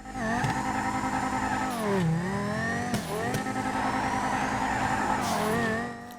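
A GTA video game sports car engine revs hard and climbs through gears, pitch sweeping up and dipping between shifts, loud and continuous with a synthetic, game-like tone.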